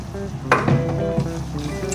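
Roasted peanuts being stirred into sugar in a pan, with a quick scrape and clatter of a utensil against the metal, then softer shuffling and rattling of the nuts under a faint sizzle.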